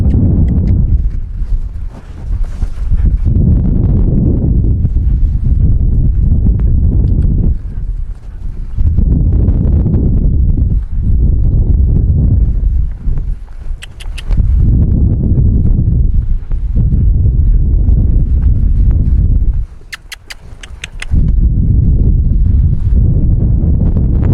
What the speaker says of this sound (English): Exciting windy day.